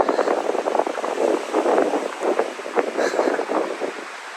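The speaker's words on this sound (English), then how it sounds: "It's been so windy this morning." Steady wind in the Canary Islands buffets the microphone in rough, rolling gusts, loud and close, with no voices.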